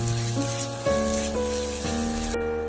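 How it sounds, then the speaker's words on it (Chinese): Scallions and side ingredients stir-fry in hot oil, giving a steady crackling sizzle throughout, with a faint tonal hum in the background. "翻炒1分钟，炒出香味"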